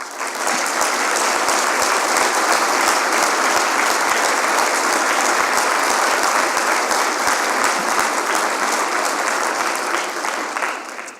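A large civic audience at a state-of-the-city address gives the new fire chief a long, loud, steady ovation of dense clapping that holds evenly for over ten seconds before easing slightly at the close.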